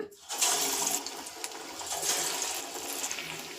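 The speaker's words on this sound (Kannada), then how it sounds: "ಇವಾಗ ನಾನು ಸ್ಟವ್ ಮೇಲೆ ಎಣ್ಣೆನ ಕಾಯಕ್ಕೆ ಇಟ್ಕೊಂಡಿದ್ದೆ ಇವಾಗ ನಾವು ಒಂದೊಂದಾಗಿ ವಡೆಗಳನ್ನ ಹಾಕ್ಕೊಳ್ಳೋಣ" Chana dal vadas are dropped one by one into hot oil on a stove, producing a close, continuous frying hiss with small bubbling bursts.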